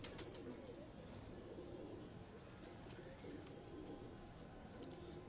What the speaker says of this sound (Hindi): ये स्लेटे बिच्छू कबूतर